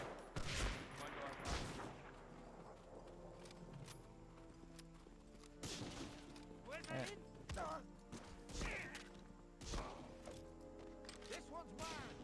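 Gunfire in the PS2 shooter Medal of Honor: Frontline, sharp repeated shots and bursts at irregular intervals over game clatter and hoofbeat-like thuds, with someone talking in between.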